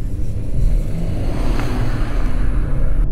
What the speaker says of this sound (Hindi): और जब आप कार को पुश करते हैं तो एक यहाँ पे इंजन से काफ़ी स्पोर्टी साउंड आती है